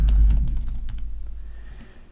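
A computer keyboard being typed on at a desk, a quick burst of close, crisp key clicks that starts loud and thins into lighter scattered taps.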